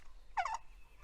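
A rooster gives a single short crow, close and moderately loud, lasting about a quarter second over a quiet outdoor background.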